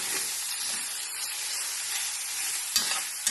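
Minced beef and onion frying in a pan while being stirred, a close, continuous bright sizzle with a few scraping stir sounds near the end and no talking.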